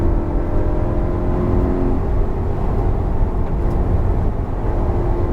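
A 2021 VW Golf GTI in sport mode on a race track, its engine holding a loud, steady, sustained drone from inside the car for several seconds with no clear rise or fall.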